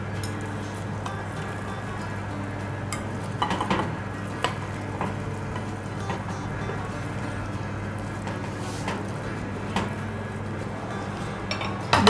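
A spoon scrapes and clinks against a pot of carrot halwa on the stove, soft irregular stirring knocks over a steady low hum, with no talking.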